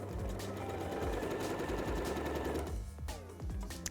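A sewing machine runs fast and steady while stitching patchwork quilt blocks together, its close, continuous whir cutting off near the end and followed by a few light mechanical clicks.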